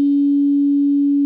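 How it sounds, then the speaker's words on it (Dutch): A higher pure sine tone from a tone generator sounds alone, a single unbroken and evenly loud note from start to finish. "U heeft nu twee sinusgolven gehoord."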